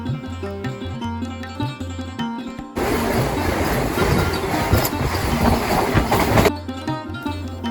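A local train on the Balichak–Howrah line in West Bengal rumbles along the tracks with a loud, steady roar of wheels and carriages, bracketed by music at the start and end.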